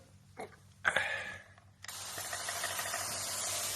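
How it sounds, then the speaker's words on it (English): A spray bottle hisses out plain water nearby at a zoo as a keeper mists animals: a couple of short pumps, then a long continuous misting spray filling the rest of the clip. "We are spraying simple water over them."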